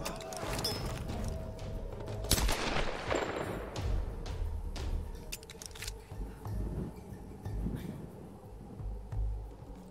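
Gunfire in the Tomb Raider video game, a few muffled shots and impacts within rumbling combat noise, moderately close and partly masked by background game sound.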